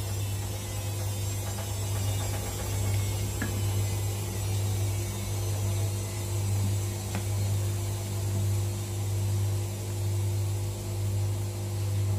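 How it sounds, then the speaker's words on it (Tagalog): A machine drones with a steady low hum and faint mechanical rattling, running continuously and evenly without any talking. "Maingay yung ating washing machine."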